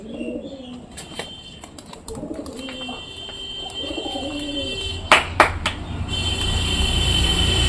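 Madras pigeons coo softly in short repeated phrases, with sharp wingbeat claps near the end as they take flight, over a low steady background.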